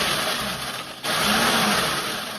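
A food processor grinds cinnamon graham crackers to a fine powder. The motor whirs loudly and steadily, drops out for a moment, then kicks back in for another pulse.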